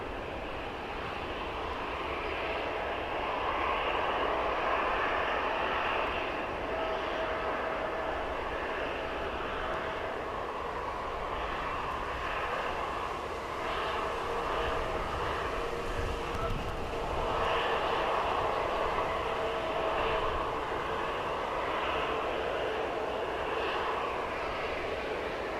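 A Malta Air airliner at Manchester Airport gives off a steady, distant engine roar that holds throughout with little change in level.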